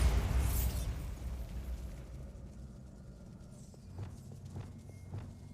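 A Bombarda spell in Hogwarts Legacy erupts with a loud, booming blast that fades into rumbling debris, followed a few seconds later by a series of lighter popping impacts.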